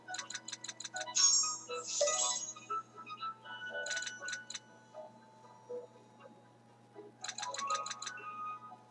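A mobile phone rings in a French casino slot-machine game session, giving rapid repeated bursts of high trilling tones that start and stop several times over a faint steady hum.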